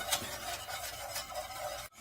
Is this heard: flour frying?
yes